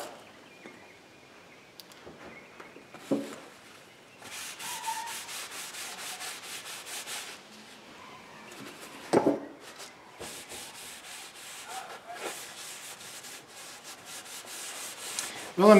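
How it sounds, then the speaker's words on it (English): Sandpaper works by hand along a pecan wood hammer handle being fitted to an antique head. Intermittent rasping strokes come close but fairly quiet, in bursts separated by short pauses, with a few light knocks and no talking. "So let me finish sanding her, and we'll get some oil."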